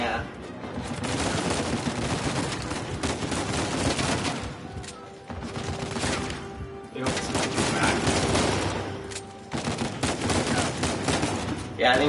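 Repeated bursts of gunfire in Uncharted 4, rattling volleys that stop and restart several times, heard beneath someone talking during play.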